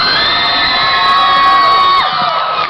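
A crowd at a fan art contest cheers loudly, with sustained shouting and high whoops, including children's voices, blending into a dense, bright roar that eases slightly toward the end.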